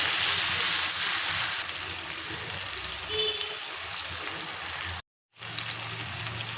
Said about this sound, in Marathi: दोन मिनटं आपल्याला असं फ्राय करून घ्यायचं आहे